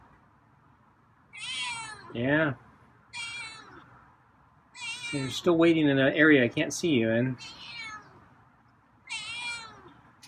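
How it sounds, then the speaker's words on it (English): A feral cat meows repeatedly, several loud, drawn-out calls spaced through the clip, some in quick runs, with someone speaking softly in between. "Got some meows, huh?"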